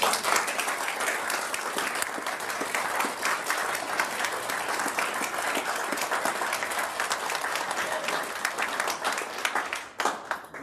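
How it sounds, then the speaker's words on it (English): Sustained applause from an audience at a mayoral candidate forum, honoring the candidates: dense, even clapping that stays steady for about ten seconds before thinning at the very end. "now is the time, chance you get to applaud these gentlemen"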